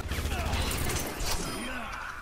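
Rapid gunfire bursts from a hero shooter match in Overwatch, loud and continuous over a busy game mix, with a voice talking at moments.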